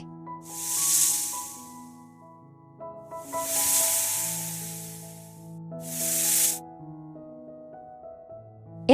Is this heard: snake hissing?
yes